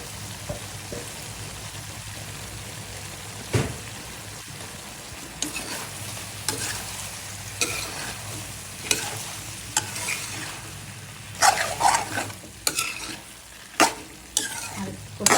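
Dried loitta fish fries in a pan with mixed vegetables, taro and boiled tomato. A steady close sizzle runs throughout, with stirring scrapes and spatula knocks growing busier and louder toward the end, and no talk.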